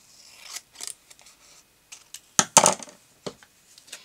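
Paper being cut by hand with scissors for a Christmas journal page, close and quiet, with a string of soft snips and small handling clicks in a near-silent room.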